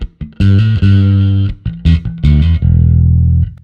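Bass played through a Darkglass Microtubes X900 amp with the drive knob turned fully up, giving a thick distorted tone; a loud, close run of sustained notes and short stabs ending on a long held note, with no voice.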